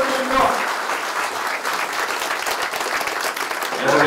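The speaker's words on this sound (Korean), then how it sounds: "주민여러분, 큰 박수 한번 부탁드립니다" A crowd at a Democratic Party central committee meeting breaks into loud, continuous applause, with a voice briefly audible at the beginning and again as the clapping swells near the end.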